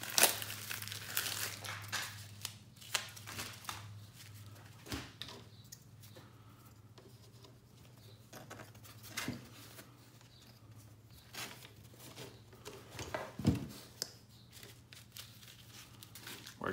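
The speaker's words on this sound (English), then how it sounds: "Go ahead and remove this tourniquet from its packaging." Plastic packaging crinkles and tears as a tourniquet is unwrapped, with close, irregular rustling and crackling bursts that come and go over a quiet background.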